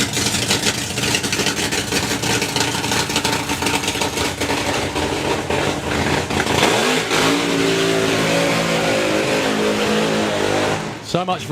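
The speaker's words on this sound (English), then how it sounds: "So much for unrestrained burnouts." A drag racing car's engine roars loudly during a burnout at a drag racing event, a dense sustained blare that drops and then climbs in a rising rev before cutting off near the end.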